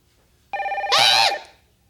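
A telephone rings once, a bright bell-like trill lasting about a second that stands alone in an otherwise quiet room.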